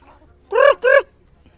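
A chicken at a rural home gives two short, loud, nasal calls in quick succession, close by against a near-silent background.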